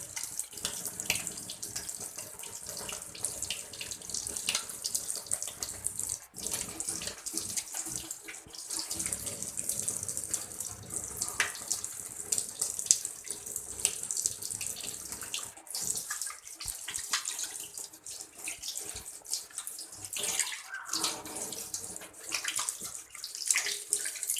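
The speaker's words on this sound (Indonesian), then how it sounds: "kita lakukan cuci tangan dulu" Hands washed under a running tap during a physical examination setting, a steady continuous rush of water splashing into a sink with faint rubbing and shifting splashes, close and alone throughout.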